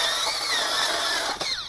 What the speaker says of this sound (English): I'm using a power drill like everyone's got with a simple adapter